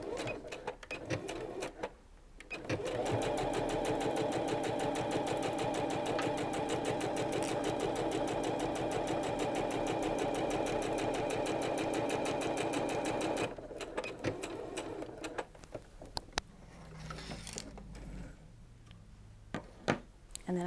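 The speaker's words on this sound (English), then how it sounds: "we're just going to sew right along these 2 curved edges" A sewing machine stitches along the two curved edges of a fabric face mask with a 3/8-inch seam allowance, running as a steady, loud continuous whir for about eleven seconds before stopping, with lighter handling noises afterward.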